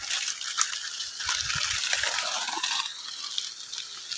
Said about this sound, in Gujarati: તો ચલો મેં અહીંયા મોટર ચાલુ કરી છે, જલ્દીથી વાડીની અંદર પાણી પાઈ દઈએ।